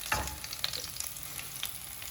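Garlic and green chilli frying in a pan during a late-night cook, with a low continuous sizzle broken by a few sharp spatula scrapes and clinks near the start and middle, no speech.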